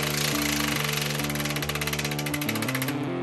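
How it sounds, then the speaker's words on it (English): Impact wrench rattling hard on a trailer leaf spring nut, a loud close burst of rapid hammering pulses lasting about three seconds before stopping abruptly. "We got the nut off here with the impact, no problem"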